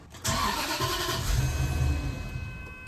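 A Bentley Arnage T engine cranks and catches with a sudden loud start, then runs roughly for a couple of seconds with a low, uneven rumble as it falters toward stalling, close by.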